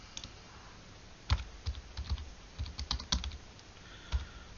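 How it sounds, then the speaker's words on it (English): Quick bursts of key presses on a computer keyboard, irregular clusters of crisp clicks heard close and alone in a quiet room. "I type in the name of the main contact"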